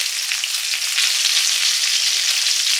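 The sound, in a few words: green mango pieces added to panch phoron frying in oil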